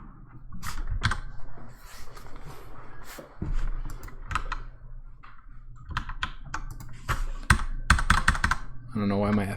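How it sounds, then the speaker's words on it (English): Keys clatter on a Kinesis Freestyle Pro keyboard in irregular bursts of sharp clicks and taps, close up, with pauses between runs and a quick flurry at the end. "I have a new keyboard here. I haven't updated my information about it, but this is no longer the keyboard I used to have. It's a Kinesis Freestyle Pro."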